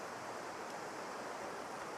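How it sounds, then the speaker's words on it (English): A river in Bhutan rushes steadily past, a constant broadband roar of flowing water with no breaks, fairly faint and heard alone. "Can you hear the river?"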